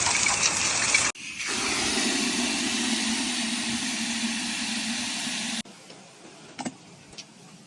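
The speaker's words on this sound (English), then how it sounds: "Once you get it all agitated, simply just spray it away." A steady rushing gush of water spray rinsing agitated soap off a car during detailing, loud and continuous for several seconds before cutting off to quieter background with a few faint knocks.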